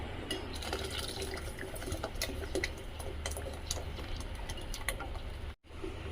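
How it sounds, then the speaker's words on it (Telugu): A pot of water boils while ragi flour is mixed in for vadiyalu, a steady bubbling with small tick-like pops, close and quiet, with a brief gap near the end. "నీళ్ళు అయితే మరుగుతున్నాయి కదా"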